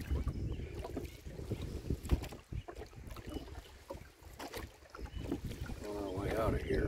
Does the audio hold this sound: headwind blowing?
yes